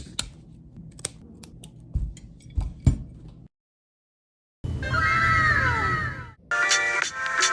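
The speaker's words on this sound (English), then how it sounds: "And just trim the long pieces away." Scissors snip punch-needle rug yarn in a string of sharp, close clicks, followed after a short silence by louder, busier cutting and rustling sounds.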